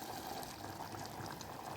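Hot water is poured into a pot of mutton curry cooked with tomato, dried chilli, ginger and garlic, giving a brief, steady, close bubbling rush of liquid.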